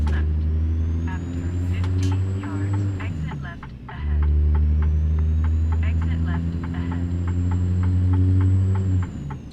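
A truck engine in the American Truck Simulator game drones with a deep, loud hum. Its pitch dips around a gear shift midway and then climbs again, with clicking in the background and someone talking over it.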